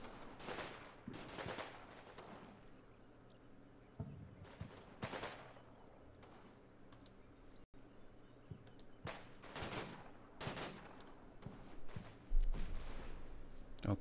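Distant gunfire skirmish in the World War II Italian front game Combat Mission Fortress Italy, with rattling bursts and scattered shots from a few hundred meters away, soft and spread out, ending in a louder thud.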